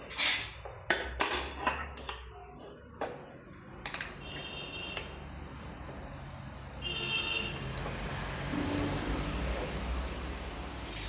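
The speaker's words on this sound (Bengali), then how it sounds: "আমি ভাতটা প্রথমে বেড়ে নিচ্ছি" Rice is served onto a plate at home, and cutlery and dishes clink and scrape close by. Sharp metallic taps come in quick bursts, with soft scooping sounds between them.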